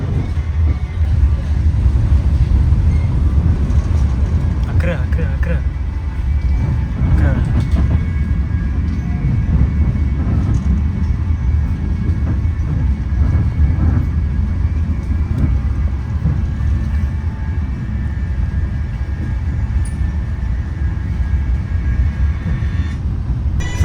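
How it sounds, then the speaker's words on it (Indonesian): Inside the Gajayana passenger train running from Malang through Yogyakarta to Jakarta Gambir, in a new-generation executive car: a steady, loud low rumble of rolling wheels and carriage noise, with a few brief clunks along the way. "ini aku berada di dalam kereta api Gajayana dengan rute Malang, Yogyakarta menuju ke Jakarta Gambir"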